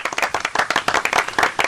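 A small studio audience claps in quick, dense, steady applause for a brief moment, close and lively.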